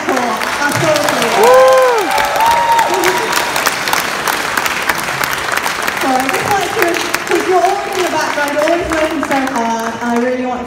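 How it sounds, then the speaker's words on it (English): Audience applause at a stage event during UK PonyCon 2024, a fan convention: sustained clapping from a crowd in a hall, loud and continuous for about ten seconds, with some voices and cheers mixed in. "can we just have a round of applause"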